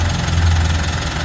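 A Mitsubishi Strada pickup engine idles during transmission and differential oil service, giving a steady, close, low rumble with an even vibrating hum and no talking.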